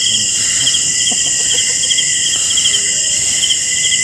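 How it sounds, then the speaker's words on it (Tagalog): Dense outdoor insect chorus, crickets chirping steadily in several high pulsing bands, loud and continuous throughout at a fishing spot, with a faint bird call or two beneath. "Ang dami mga insekto, guys."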